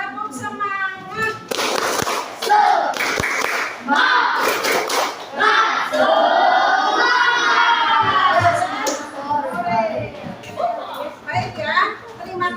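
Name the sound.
classroom spirit clapping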